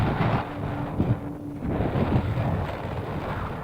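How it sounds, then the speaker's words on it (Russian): Strong wind buffets the microphone at a clay quarry that supplies a brick factory, producing a continuous rough roar with gusty swells and no voices. "Тут дует вообще жутко."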